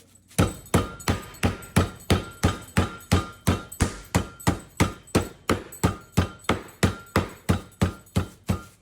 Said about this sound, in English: So we start with this, and we're gonna pound it out.